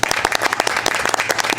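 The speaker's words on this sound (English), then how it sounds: "I think we should give him a round of applause." Loud applause at a board of education meeting, a room of people clapping close and brisk with sharp individual claps over a steady patter.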